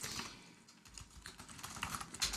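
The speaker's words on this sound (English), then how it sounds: "Why is typing so hard sometimes?" Fast keystrokes on a computer keyboard, a dense run of close, quiet clicks at an irregular pace with no talking.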